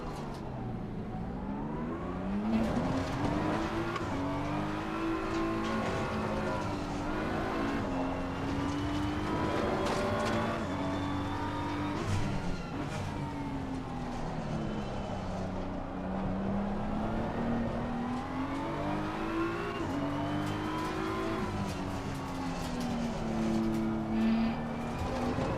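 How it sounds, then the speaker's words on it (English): Race car engines in Assetto Corsa Competizione drone steadily, pitch rising and falling through gear changes as another car comes around the track, a continuous loud revving with no pauses. "Got a car coming around."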